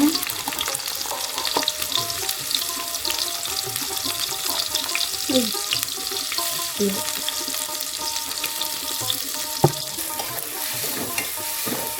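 Onions fry in oil in a pot for pulao, giving a dense, constant sizzle close up with intermittent scraping and stirring sounds throughout.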